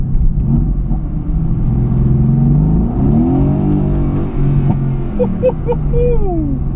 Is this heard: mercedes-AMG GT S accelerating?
yes